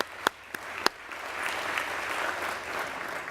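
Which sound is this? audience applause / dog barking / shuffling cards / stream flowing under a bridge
audience applause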